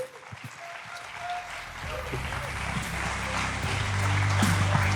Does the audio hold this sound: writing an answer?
no